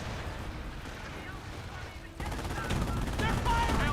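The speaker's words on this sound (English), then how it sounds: "Section 2 on this airborne squad fires through the vehicle." Small arms fire from the strategy game Company of Heroes, a rapid crackle of rifle and machine gun shots that grows louder and denser partway through, with a voice talking over it.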